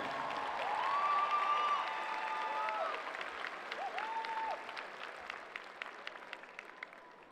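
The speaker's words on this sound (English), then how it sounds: "One more round of applause for these outstanding students and their parents." Audience applause fills a high school commencement ceremony, a broad steady wash of clapping from a large crowd that gradually thins and softens, with faint tonal sounds and a few scattered claps near the end.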